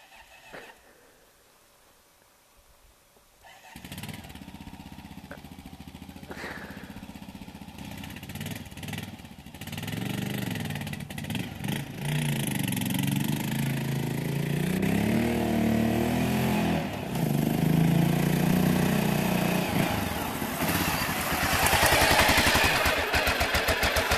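A Honda XR650L motorcycle on Sahara sand sputters and catches as it is push started, then settles into a rough, steady running engine, loud and near, continuing with clatter after a few quiet seconds.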